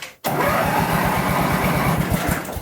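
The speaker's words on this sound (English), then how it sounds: "I'm going to start it without choke first just to get things moving along here." A Bush Machine engine by Summers fires up without choke, catching abruptly after a brief silence and settling into a loud, steady, pulsing run close to the microphone.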